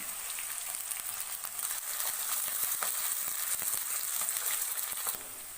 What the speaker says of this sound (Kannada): ಈರುಳ್ಳಿ ಚೆನ್ನಾಗಿ ಫ್ರೈ ಆಗಿದೆ